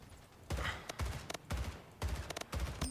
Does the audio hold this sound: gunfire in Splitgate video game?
yes